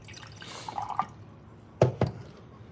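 Water is poured and drips into a glass or cup for iced coffee, a few soft trickles followed by two distinct close drips over a quiet background.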